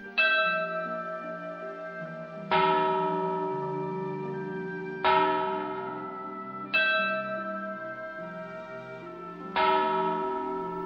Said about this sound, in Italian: dove si trovavano le campane, una piccola e una grande, suonate singolarmente a seconda del messaggio che dovevano trasmettere